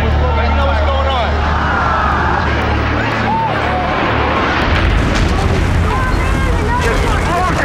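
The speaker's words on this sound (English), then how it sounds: "This explosion is incredible." Explosions boom and rumble amid a loud, chaotic scene, with dense blasts and crackling debris layered over a continuous roar and voices heard throughout.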